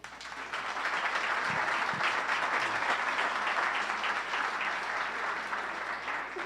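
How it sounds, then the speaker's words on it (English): Audience applause at a tech-week panel on cancer research, a dense, sustained round of clapping from a crowd that rises quickly and holds steady to the end. "So please, another round of applause."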